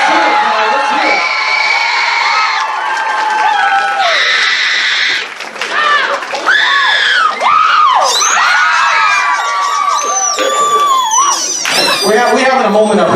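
A convention crowd at a FurSquared 2020 dance-battle event cheers, whoops and screams for the dancers, loud and sustained, with shrill shouts and squeals rising over the roar.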